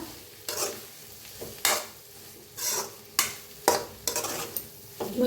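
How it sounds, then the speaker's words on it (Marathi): A spoon stirs and scrapes homemade spice masala roasting in a pan for a potato usal curry, with a faint sizzle between regular loud scraping strokes that come about once a second. "आपण त्याला भाजून घेऊया छान असं भाजून घेऊया सगळा मसाला"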